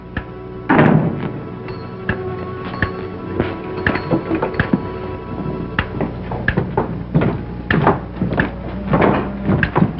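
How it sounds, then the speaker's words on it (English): Wooden doors and cupboards thunk and bang repeatedly in an old western radio drama, with a heavy close at the start followed by many lighter knocks and clatters. "And close the door after you."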